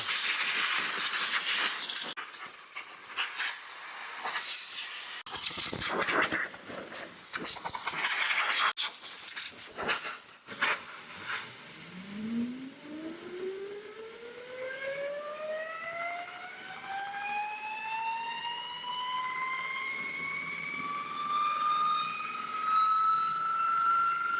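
Compressed air hisses and blasts in bursts while clearing grass clippings from a Toro Timemaster lawn mower deck. A rising whine then builds steadily, close and loud.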